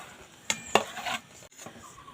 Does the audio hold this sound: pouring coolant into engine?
no